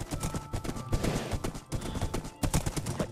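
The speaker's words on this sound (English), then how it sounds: "Just a plain white horse." A plain white horse in the Minecraft video game clip-clops along with steady, fairly close hoof steps that repeat in a loose rhythm. The hoofbeats sound alone, with no talk over them.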